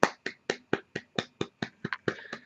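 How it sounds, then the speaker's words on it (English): One pair of hands claps about ten times in a crisp, even rhythm, close and fairly quiet, with no one talking. "That applause is for Karim"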